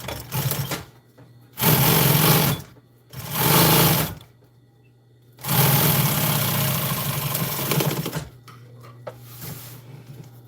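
A sewing machine stitches the bottom of a bag closed in three loud bursts, each a few seconds long, with quiet gaps between them.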